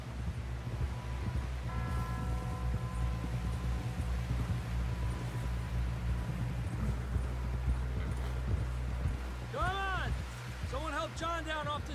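Horse hooves clip-clop at a steady walking rhythm in the Red Dead Redemption 2 video game, joined by low wind and rustling, a brief whinny near the end, and someone talking over it.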